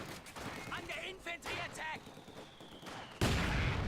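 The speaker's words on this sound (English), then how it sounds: "The mortar is mortaring away at that house." A mortar fires on a house in the World War II strategy game Company of Heroes 2, amid bursts of gunfire and explosions, with a sharp, loud blast near the end while a commentator talks over the battle.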